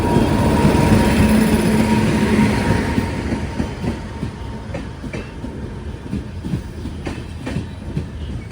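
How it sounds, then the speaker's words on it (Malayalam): A Chennai Mangalore Superfast train pulls into Nileshwar railway station with a loud, steady rumble and a run of sharp rhythmic wheel clacks that ease off as it slows. No voices are heard. "ചെന്നൈ മാംഗ്ലൂർ സൂപ്പർ ഫാസ്റ്റ് ഇതാ വരികയാണ്"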